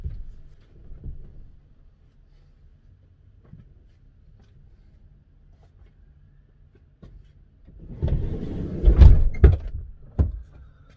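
The side loading door of a VW Crafter van slides and shuts, with a low rumbling roll building to a couple of heavy thuds near the end after a mostly quiet stretch.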